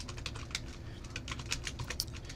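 Fingers type on a computer keyboard while coding a web page, a quick irregular run of close, crisp key clicks with no voice.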